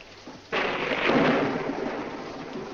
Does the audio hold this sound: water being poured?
no